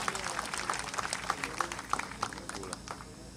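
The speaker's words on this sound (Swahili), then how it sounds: "Tumuhure makofi agiuka." An audience claps to welcome a speaker at a gathering, a moderate burst of many hands in a dense patter that thins toward the end, heard fairly close.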